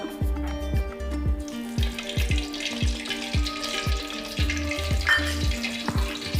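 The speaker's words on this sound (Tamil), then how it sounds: "அடுத்து நம்ம என்ன பண்ணுறோன்னா ஆயில் ஊற்றுறோம்" Oil poured into a hot pan for egg parotta sizzles steadily with a soft hiss, under a rhythmic tonal background, with no talking.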